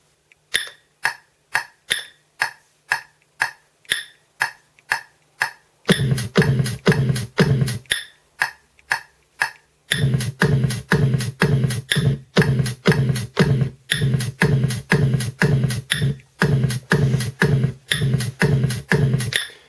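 A drum pattern programmed on a Boss SP-505 sampler, crisp clicky hits, starting sparse, then a fuller repeating beat with low thumps, pausing briefly before resuming steadily.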